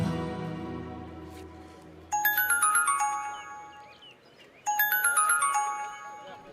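A phone ringtone plays a loud, bright chiming melody in two bursts with a short gap between them, ringing clearly in an otherwise quiet indoor scene.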